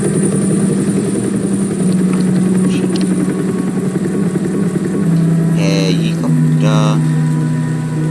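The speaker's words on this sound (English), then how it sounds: "Helicopter." A helicopter in the Batman Telltale Series video game, a loud steady rotor and engine drone that fills the whole stretch, with brief higher electronic chirps and tones rising over it near the end.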